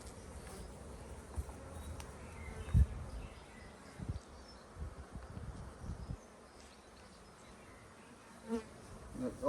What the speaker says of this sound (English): The hive's absolutely teeming with bees.